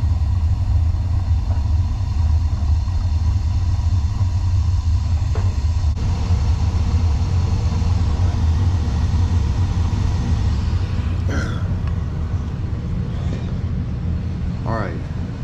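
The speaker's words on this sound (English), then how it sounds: "I'm waiting for the blower to come on." A Borg-Warner furnace fired up with its blower running, producing a loud, even low roar that holds for the whole stretch, with a few faint squeaks near the end.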